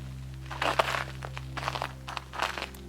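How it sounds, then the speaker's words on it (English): Footsteps crunching over frozen, iced-over ground at an abandoned resort, several close crisp crunches in an uneven walking rhythm over a steady low hum, with no talking. "The ground is crunchy. That's how freezing cold it is. Everything's iced over."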